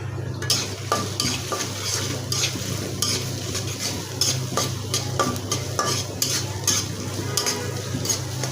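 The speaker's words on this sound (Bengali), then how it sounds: "কড়াইতে আমি তেল দিয়ে দিছি। এখানে আমি করলা ভাজি করবো।" Bitter gourd fries in oil in a wok, giving a close, constant sizzle and a low steady hum, while a spatula scrapes and clinks against the metal in frequent irregular strokes.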